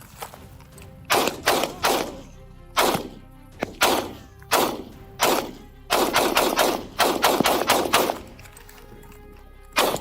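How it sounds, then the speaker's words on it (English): Gunshots fired during a police confrontation at the end of a high-speed pursuit of a Ford Raptor: loud, close bursts of repeated shots in irregular clusters, with a rapid volley toward the end and no voices. "I got shots fired"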